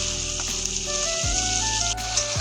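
Chicken meat frying in a pan with onions for a chicken gravy, a steady close sizzle that runs throughout with a brief stir partway.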